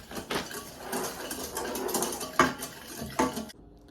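Eggs and half a cup of sugar being beaten together in a bowl for a honey cake, a steady clattering whisk rattling against the bowl throughout, with a couple of sharper knocks near the end before it stops.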